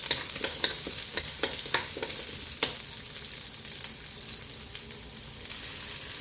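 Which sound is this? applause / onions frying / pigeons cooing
onions frying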